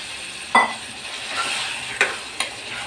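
A pan of brinjal and potato curry sizzles steadily while a spoon scrapes and stirs, with a few sharp clinks against the metal.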